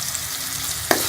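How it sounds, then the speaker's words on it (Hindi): Spices frying in a pan for a tenti dela (karir berry) salan or pickle, a steady close sizzle throughout with a sharp stir or clatter near the end. "सारे मसाले डाल के इसको अच्छी तरह से मैं भून लूँगी"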